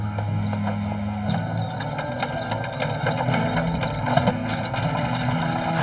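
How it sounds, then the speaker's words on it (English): A diesel engine runs with a steady, low mechanical drone. Its tone shifts slightly about a second in, then it keeps chugging evenly at close range. "The diesel engine! It's working!"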